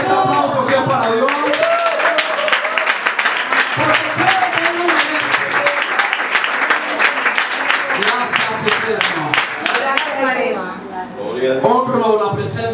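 A church congregation claps continuously for a long stretch, dense and fairly loud, while a voice speaks over the applause throughout.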